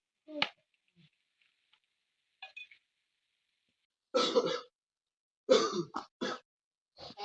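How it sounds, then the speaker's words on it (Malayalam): A person coughs and clears their throat several times in a quiet room, with short, sharp, close bursts spaced apart by silence and a tighter cluster near the end. "നല്ല ചുമയുണ്ടല്ലോ ചുമക്കുന്നുണ്ട്"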